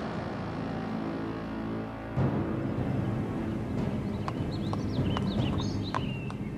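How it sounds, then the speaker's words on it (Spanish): Horses walk through the streets of New York City, their hooves clip-clopping in a steady rhythm at moderate distance against a low urban background rumble, with no talk. "los caballos que antes patrullaban Times Square y paseaban turistas por Central Park han abandonado la ciudad"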